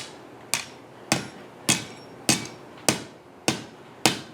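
Steady hammer blows ring on hot 3/8-inch round steel stock bent around a mandrel at the edge of an anvil, forging a pintle hinge: seven sharp, evenly spaced metallic strikes, each with a short decaying ring, close and loud.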